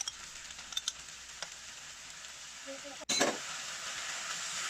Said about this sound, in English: Stir fry everything for about a minute.